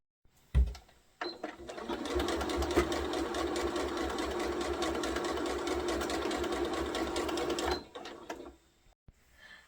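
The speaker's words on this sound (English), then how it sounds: "and I'm going to sew all along this line" A sewing machine runs in one continuous steady burst of fast, even stitching for several seconds along a seam of a fabric jar opener, starting and stopping cleanly, with no talk.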